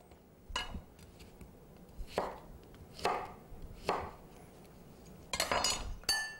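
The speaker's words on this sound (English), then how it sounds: "Cut it in slices." Knife slicing an overripe pear with brown marks on a board, about six sharp chopping strokes at an uneven pace, close and distinct, the last few coming in quick succession with a light clink.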